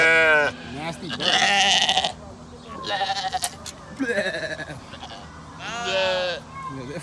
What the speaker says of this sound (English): Oh, these sheep sound hilarious.